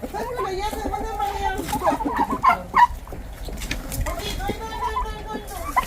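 Turkeys gobble and cluck nearby in a busy, repeated chorus, with people talking over them.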